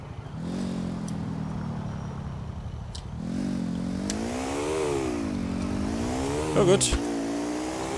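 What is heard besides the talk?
car accelerating at full throttle in the video game GTA IV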